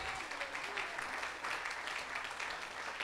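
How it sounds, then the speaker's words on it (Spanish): A church congregation gives steady applause, a fairly distant, continuous wash of clapping that holds at an even level for the whole stretch. "Denle un aplauso al Rey."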